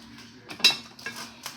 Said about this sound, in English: I'll probably just use a fork because I have to mix those till they get stiff